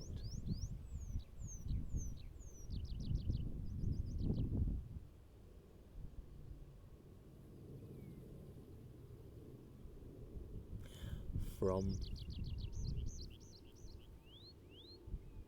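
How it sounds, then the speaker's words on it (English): A bird sings outdoors during a calm yoga session, with bright chirping phrases repeated at the start and again near the end. Between them are gusty wind noise and a short rattling call, at moderate distance. "It just seems rude to interrupt the bird as she sings, or he sings."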